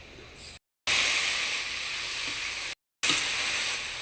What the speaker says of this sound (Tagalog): Yan, lagay na natin yung pork.